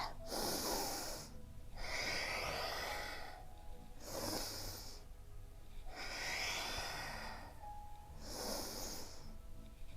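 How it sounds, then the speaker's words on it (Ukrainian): Someone takes deep breaths in and out during a kneeling balance workout. There are five audible breaths, each a loud, close breathy rush separated by short quiet gaps. "Вдих видих, вдих, видих."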